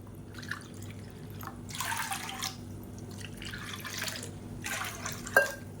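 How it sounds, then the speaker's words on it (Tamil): Water from a measuring cup is poured into a kadai in a home kitchen, several splashing, trickling pours in bursts, close and moderately loud, alone without talk. "இதில் மெஷரிங் கப்பில் நல்லா ஒரு 3 கப் அளவுக்கு தண்ணி சேர்த்துக்கலாம்"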